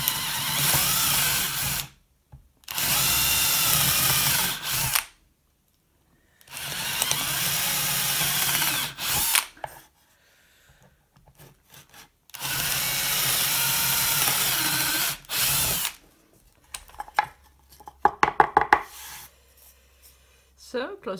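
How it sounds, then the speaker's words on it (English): Bursts of a power drill whirring in short runs into the wood of a 1950s guitar, drilling bridge pin holes, separated by pauses, followed by clicking and rattling handling noises near the end. "I put in little tiny pivot holes so that I can drill through that"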